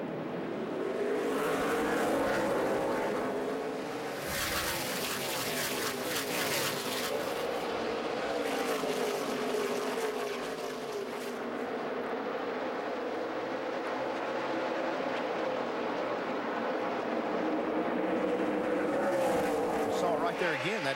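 NASCAR Nationwide stock cars roar through a restart at Bristol, engines loud and continuous, with a commentator talking over the steady racing din.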